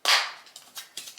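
A plastic lid snaps onto a tub of instant oats with one sharp click, followed by a few faint, quick taps and rattles.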